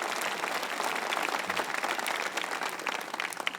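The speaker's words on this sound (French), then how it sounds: "applaudissez donc ce que Dieu nous prépare" A church congregation applauds during a worship service, producing a thick, loud roar of many hands clapping together that stays steady for the whole stretch, with no talking over it.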